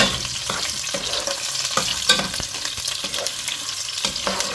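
Green and red chillies frying in ghee over a low flame, a continuous close sizzle broken by regular scraping stirs of a spoon in the pan, with no talk.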